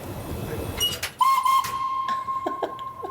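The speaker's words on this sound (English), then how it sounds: "we've got the magic whistle, which everybody wants to blow" A steady, shrill steam locomotive whistle starts abruptly and holds one pitch for about two seconds over clattering background noise, with a few short knocks near the end.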